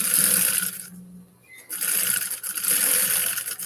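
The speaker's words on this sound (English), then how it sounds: "And we are going to stitch it." Sewing machine stitching a leather purse, a steady close mechanical whir that stops briefly partway through, then resumes in a continuous run.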